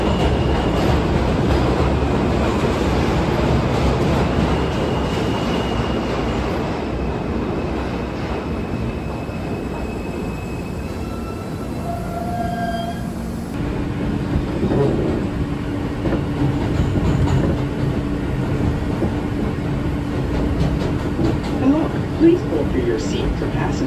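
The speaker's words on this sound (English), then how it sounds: "I caught the F train, but it was taking me in the wrong direction" Interior of a New York City F subway train in motion, a steady loud rumble and rattle of the railcars with screeching tones, continuous throughout with a shift in pitch midway.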